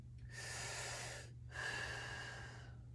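Two long, deliberate breaths drawn in and pushed out through the mouth during a guided lower back pain exercise, close and airy, each lasting over a second with a short pause between them over a faint steady hum.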